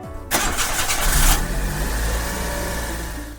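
A car engine cranks and catches after a short silence, then settles into a loud steady running rumble nearby with no voices.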